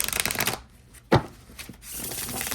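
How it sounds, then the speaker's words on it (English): A gilded-edge watercolor tarot deck is shuffled by hand: brisk riffling rattle opens and closes, with a single sharp card snap in the middle and softer handling between, close and alone. "That is just a beautiful, beautiful shuffle."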